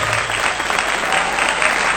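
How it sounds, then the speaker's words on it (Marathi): Sustained applause from an audience at a live hypnotism stage show, dense steady clapping filling the whole moment with a faint crowd murmur beneath. "टाळ्या का वाजवणार आहे?"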